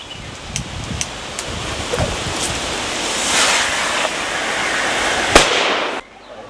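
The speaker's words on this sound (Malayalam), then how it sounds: "ആനകളെ സംഘം പടക്കം പൊട്ടിച്ചും ശബ്ദമുണ്ടാക്കിയും കാട് കയറ്റി" Firecrackers are set off in Munnar to drive wild elephants back into the forest. Sharp bangs and crackling pops ring out over a continuous rushing hiss, ending with one loud burst before quiet.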